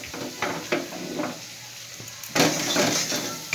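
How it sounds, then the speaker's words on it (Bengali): Masala with cumin powder sizzles and fries in hot oil, with a spoon stirring and scraping the pan in bursts and a louder burst of sizzle near the end. "মশলাটা কষানো প্রায় শেষের পথে।"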